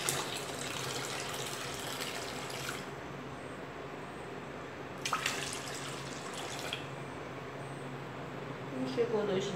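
Water pours into a container while liquid soap is being made, a steady splashing rush with a few louder surges along the way.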